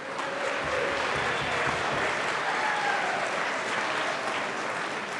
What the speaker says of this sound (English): If we could give them a round of applause and welcome and congratulations.